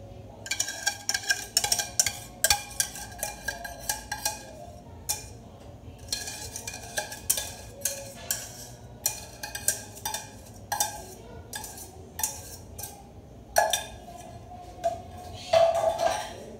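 A utensil stirs and spreads béchamel sauce over a vegetable gratin in a dish, producing steady clinking and scraping taps in an uneven rhythm, close by and moderately quiet.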